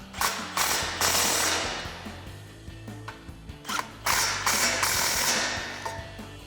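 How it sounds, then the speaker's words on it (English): A socket wrench ratchets in repeated rapid clicking strokes while a 16mm socket and 17mm wrench tighten stainless muffler bolts on a RAM 1500, close and fairly quiet, with brief pauses between strokes. "we can take a 16mm socket on our bolt side and a 17mm wrench on our nut side to"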